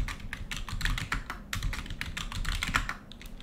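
Keys clatter on a computer keyboard as a sudo command is typed, a quick irregular run of close, crisp clicks with brief pauses and no talking.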